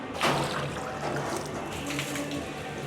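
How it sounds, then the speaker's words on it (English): Peracetic acid sprayed to coat the inside of a brewing tank, a steady watery hiss and trickle that runs continuously for a few seconds, close by with no talk. "Now we're going to coat the tank with 5 litres of peracetic acid."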